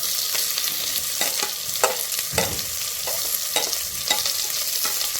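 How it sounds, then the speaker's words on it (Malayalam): Two large sliced onions sauté in hot oil in a pan for kadala curry, with a constant sizzle and intermittent scraping stir strokes, close and steady with no talking. "ഇതിലേക്കില്ലേ നമ്മൾ അരിഞ്ഞു വെച്ചിരിക്കുന്ന നമ്മുടെ സവോളയാണ് ഇട്ട് കൊടുക്കുന്നത്"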